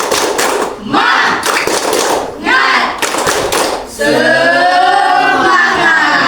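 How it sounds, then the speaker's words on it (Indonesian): A classroom of students claps a rhythmic spirit chant in bursts, loud group claps separated by short pauses, followed by a stretch of voices chanting together in unison. "Tepuk semangat."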